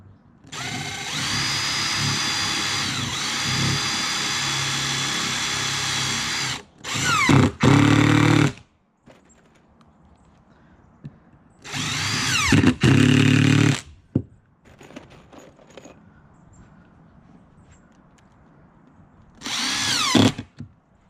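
A power drill drives screws into wood while a dog house is assembled, several loud whirring bursts of a few seconds each, separated by quieter pauses with faint handling noise.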